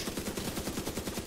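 Rapid bursts of gunfire crackle in a steady, fast rhythm, close and loud, like automatic weapons firing in Tom Clancy's The Division 2 on PS4.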